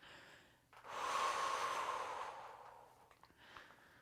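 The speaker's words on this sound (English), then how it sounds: "Still nice big breaths in and out." One long, breathy exhale through the mouth during a core exercise session, swelling and fading over a couple of seconds, close and soft in an otherwise quiet room.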